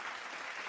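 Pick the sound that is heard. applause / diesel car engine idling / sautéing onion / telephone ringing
applause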